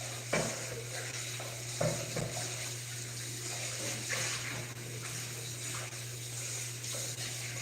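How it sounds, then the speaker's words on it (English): Water pours steadily into a pot in a home kitchen, to cook string beans (haricots verts), with a continuous splashing rush and a few clinks of the pot throughout. A low steady hum runs underneath. "now the water I'm putting here is for me to start with the beans"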